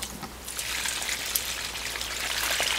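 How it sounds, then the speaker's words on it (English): Excess water trickles and drips from mulberry bark fibers soaked overnight, a steady close splattering dribble with no talk. "next stage is actually to drain off some of that excess water"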